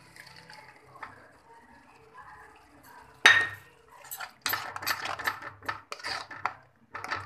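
Onions frying in a pan as tomato paste is added: a sharp utensil clang against the pan, then a run of scraping and clattering stirs over a faint background.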